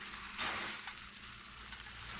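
A spoonful of mushroom fritter batter drops into hot oil in a pan and sizzles, a steady close hiss filling the moment with no voices.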